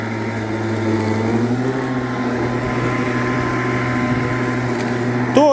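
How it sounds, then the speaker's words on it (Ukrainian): A cordless battery-powered lawn mower runs steadily close by, a continuous motor hum with a sustained low drone and a faint rise in pitch near the end, with no voices over it. "Акумулятори вставили, покосили, ні бензин не смердить, ні дроти не волочаться."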